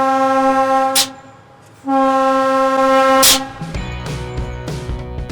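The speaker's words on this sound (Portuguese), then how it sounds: "Você vai sentir a emoção de buzinar um trem." A passenger train's horn, sounded by pulling a cord on a tourist train ride near Curitiba, blasts loud and close in two long, steady harmonic tones, then turns into a rougher, lower rumble of the train in motion.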